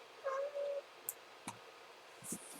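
A kitten named Ezzy meows twice in quick succession, close and fairly clear, followed by small clicks and rustles and a brief higher chirp near the end, with no speech.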